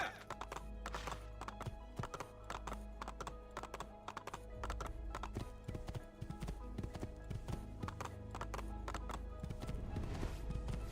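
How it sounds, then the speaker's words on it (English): Horse hooves clip-clop steadily in Assassin's Creed 2, a rapid continuous run of hoofbeats with an occasional neigh, heard alone against game ambience. "We definitely should grab a horse here, just to make it faster."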